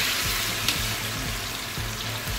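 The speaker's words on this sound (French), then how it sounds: "je vais faire frire mon poisson, faire frire ma banane" Plantain slices (aloco) and fish fry in hot oil, giving a steady, moderately loud sizzle with a faint bubbling undertone and no voices over it.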